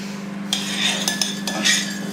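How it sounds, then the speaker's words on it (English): A spoon stirs a beef and tomato casserole in a pot, giving a few soft scrapes and light clinks over a low steady hum, close and fairly quiet. "I'll give all that a nice big mix round now."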